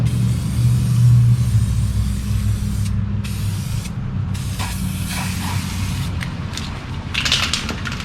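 Aerosol spray paint hisses onto the brake calipers of a Lexus IS-F, with long loud continuous bursts broken by brief pauses and short follow-up sprays.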